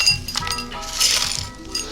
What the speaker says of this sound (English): So we're gonna start by icing up these glasses.